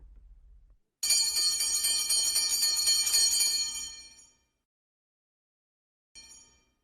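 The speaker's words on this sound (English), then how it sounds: "It's 8:30 a.m., and the school bell is ringing." A school bell rings at 8:30 in the morning: a bright, sustained metallic ringing lasts about three seconds, then stops, followed by a short second burst of ringing.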